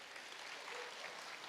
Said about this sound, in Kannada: ಮಕ್ಕಳಿಗೆ ಜೋರಾಗಿ ಚಪ್ಪಾಳೆ ಕೇಳಲಿಲ್ಲ.